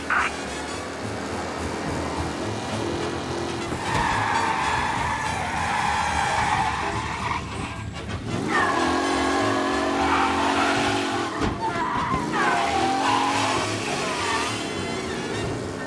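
Race car engine revving with tires skidding and squealing on a road at night in the video game Mafia: Definitive Edition, loud and continuous with surging engine tones and repeated screeches.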